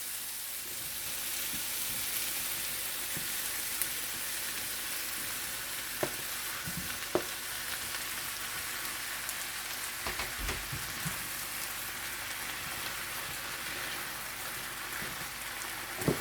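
Beans and tomatoes tipped into a hot pot for a vegan jackfruit stew, giving a steady, close sizzle and hiss with a few soft knocks and clinks over it, no voices.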